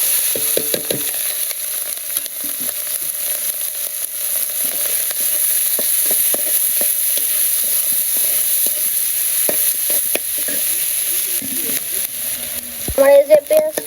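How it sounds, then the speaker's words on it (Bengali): Sliced onions and green chillies fry in a village kitchen pan under a constant bright sizzle, punctuated by frequent sharp scrapes and clatters as the mixture is stirred. "আমার এই যে পেঁয়াজটা ভাজা হয়ে গেছে, পেঁয়াজ আর কাঁচা মরিচ"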